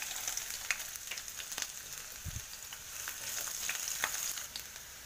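Ginger, garlic and green chili sauté in hot oil with a soft, steady crackling sizzle, broken by occasional stirring scrapes and clinks, close and fairly quiet with no talking.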